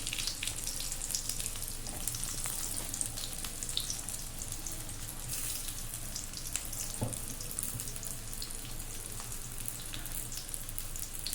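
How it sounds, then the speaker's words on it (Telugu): Stuffed bitter gourds frying one by one in oil in a pan give a steady, close hiss and sizzle with faint crackles throughout, with no talking. "ఇప్పుడైతే మనం ఒక్కొక్కటి ఇలా వేసేసుకొని మొత్తం అయితే ఇలా వేయించేసుకొని కాకరకాయని రెడీ చేసుకుంటామండి"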